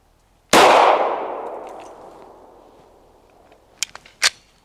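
A single loud pistol shot fired through a red dot sight during a pyramid drill, ringing and decaying over a few seconds, then a couple of sharp metallic clicks and clacks from the handling of the jammed gun.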